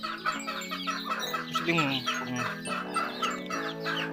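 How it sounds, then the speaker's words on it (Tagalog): Backyard chicks and hens clucking and peeping while feeding, with busy overlapping calls close by and a voice speaking briefly among them. "First kain ng mga sisiw natin mga backyard"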